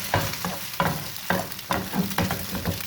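An egg fries with a soft sizzle in a pan for aloo chapli kabab while a spoon stirs and scrapes it in regular strokes, about six per few seconds, close and clear.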